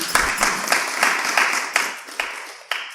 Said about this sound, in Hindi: तालियां बजाओ सब इसके लिए।